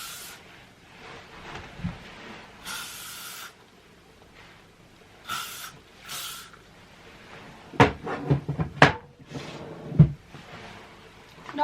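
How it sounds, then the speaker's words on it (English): Hairspray is sprayed onto styled hair in three short hissing bursts, close and fairly soft, followed by a few light knocks and handling sounds. "I'm just going to quickly pop on some hairspray"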